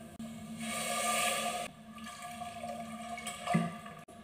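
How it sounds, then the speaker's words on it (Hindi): Water poured from a glass into rice in a pressure cooker, a close splashing gush that swells and then eases, followed by a second shorter pour and a small splash near the end. "इसी गिलास से हम 2 गिलास नाप के पानी भी ऐड कर देंगे।"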